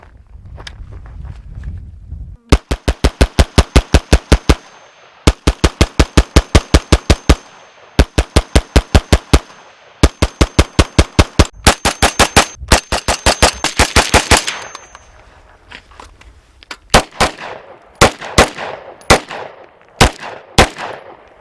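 An FN PS90 bullpup rifle chambered in 5.7x28 fires in rapid strings of sharp, loud shots, several fast bursts followed by slower, spaced single shots with echoing tails.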